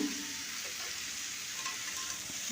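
Cubed pumpkin, skin partly left on, frying in a pan with potatoes for a rustic Bankura village-style lunch, giving a steady, close hissing sizzle throughout with light stirring scrapes and no talk.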